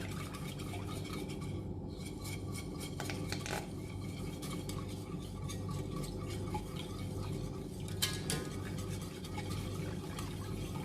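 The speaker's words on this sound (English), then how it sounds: "Mix, mix, mix." A spoon stirs raspberry mirror-cake glaze mixture in a bowl, with steady close scraping and occasional light clinks against the bowl.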